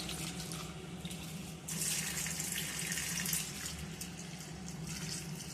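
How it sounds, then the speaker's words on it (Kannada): Red lentils are rinsed in water in a kitchen, a steady running and sloshing wash that grows louder and splashier midway and stays close and continuous with no talking. "ಇವಾಗ ಚೆನ್ನಾಗಿ ಬೇಳೆ ಅಥವಾ ಕೆಂಪು ಬೇಳೆನ ತಗೊಂಡು ತೊಳ್ಕೊತೀವಿ"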